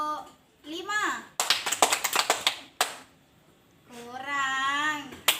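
Children at school clap their hands in a short burst of quick sharp claps during a counting exercise, set between a woman's speech and children's voices.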